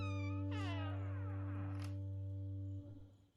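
A cat in the video game Marie's Room gives one drawn-out, rising then falling meow over a steady electronic hum. A second short, higher cry comes partway through, then the sound fades at the end.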